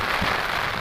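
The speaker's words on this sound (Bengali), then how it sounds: "নামতেছে বৃষ্টি, খুব ভালো বৃষ্টি নামছে।" Heavy rain from Cyclone Remal pours down on a village, a dense, loud, unbroken hiss of drops on surfaces that is close and steady and has no voices over it.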